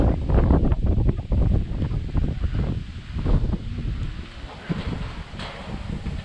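Gusty wind thumps and roars against the microphone while a DJI Mini 3 drone flies outdoors, easing slightly toward the end, with faint surf-like wash underneath and no talking.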